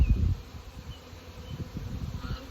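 Honey bees humming around a swarmed hive, a low wavering buzz of many bees with a louder close pass at the start, moderate and steady after.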